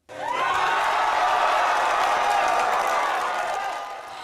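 Supporters of Lee Jae-myung cheering an election result, a large crowd roaring, whooping and clapping in one sustained loud burst that fades slightly at the end.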